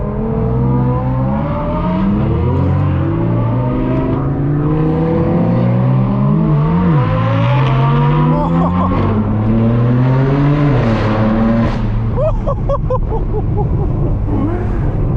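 Loud, continuous engine roar of supercars with aftermarket exhausts, including Lamborghini Huracans, an Aventador SVJ, a Porsche GT3 and an Audi R8, revving, pitch rising and falling with sharp throttle blips and crackles throughout.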